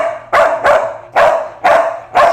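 A dog under behavioural rehabilitation barks five times in a loud, close, evenly spaced series, each bark sharp and ringing, with no talk over it.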